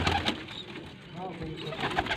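Pigeons coo softly in a Faisalabad pigeon loft, low throaty calls repeating close by while people talk over them.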